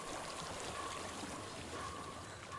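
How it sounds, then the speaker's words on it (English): Steady flowing water in Hellblade: Senua's Sacrifice, a continuous trickling stream heard alone at moderate level, with a faint higher babble running through it. "I hear water."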